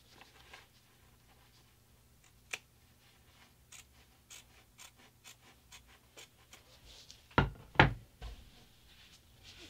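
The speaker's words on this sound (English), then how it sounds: "So I'm going to trim that seam allowance and then also trim that blue fabric back an extra little sliver." Scissors snip quilt fabric to trim a seam allowance, faint scattered clicks and small cuts building to two louder, sharp snips near the end.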